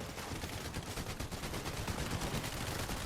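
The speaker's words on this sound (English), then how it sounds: "burst SMG combat on high ground the end game" Rapid burst SMG gunfire in a Fortnite-style battle royale game during a high-ground endgame fight at a cash cup, a dense continuous rattle of shots with game noise, loud and unbroken throughout.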